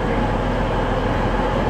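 A Trans-Pennine passenger train from Scarborough to Liverpool Lime Street, a double set, running at Liverpool South Parkway on the Liverpool branch of the West Coast Main Line, gives off a steady, loud rumble that stays even for the whole stretch.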